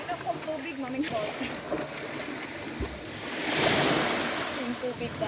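Sea waves wash onto a white-sand beach on Dinagat Islands, a steady surf roar swelling near the middle, with wind buffeting the microphone and a person talking over it.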